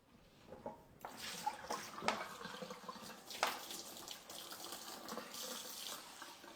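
Water pouring from a tap into a cooking pan, starting abruptly and splashing unevenly with a few louder gushes, close and alone without talk.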